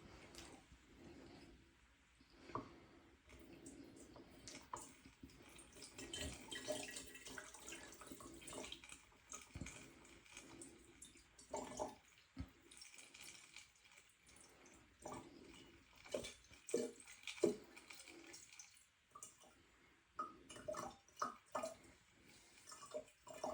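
Liquid pours into a reaction container during a sulfuric acid synthesis, an irregular trickling and splashing stream with drips, quiet and close throughout.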